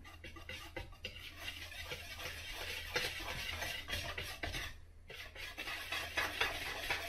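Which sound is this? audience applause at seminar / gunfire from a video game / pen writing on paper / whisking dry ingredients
whisking dry ingredients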